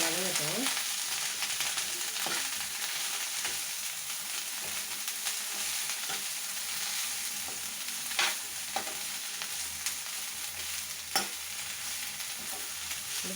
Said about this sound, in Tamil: கலந்தே நம்ம ஒன்றா வதக்கிடலாம்